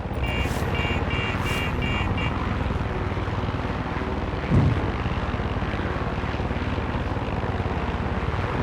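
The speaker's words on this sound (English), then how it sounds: "There's an enemy chopper creeping the skies nearby." Enemy helicopter in the Far Cry 6 game circling nearby, a continuous loud rotor and engine drone filling the whole stretch, with a short thump midway and no voices.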